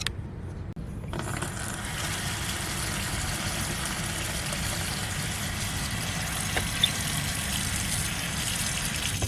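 Warm water poured into the container of a compost toilet during setup, a steady continuous gushing wash that runs for the whole stretch at moderate loudness with no talk.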